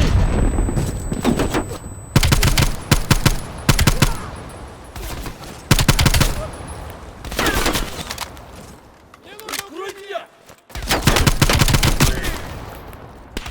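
Bursts of automatic gunfire from the video game Call of Duty Black Ops Cold War, loud and close, rattle in repeated volleys with short gaps between them, as voices shout over the shooting.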